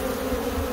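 Bees swarming around a tree during a bee removal give a brief, steady, close buzz with no voices.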